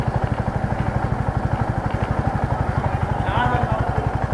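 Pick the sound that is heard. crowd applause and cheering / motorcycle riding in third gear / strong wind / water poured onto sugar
motorcycle riding in third gear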